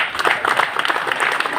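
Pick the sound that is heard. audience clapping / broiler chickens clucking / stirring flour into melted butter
audience clapping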